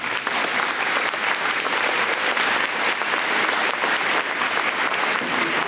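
A school gym crowd applauds Army veterans at a middle school Veterans Day program, sustained dense clapping from many hands, steady and loud throughout with no talking.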